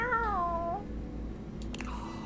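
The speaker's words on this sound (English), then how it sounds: "A small creature that looks rather like a black cat rubs up against Mateo's leg," A black cat creature in the game Date Everything! gives a single clear, wavering meow up front, followed by faint clicks and a soft chime over a low background hum.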